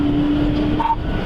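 A pickup truck speeding down a crowded road in a police chase, heard from a dashcam as a loud, steady road and engine roar with a brief whine.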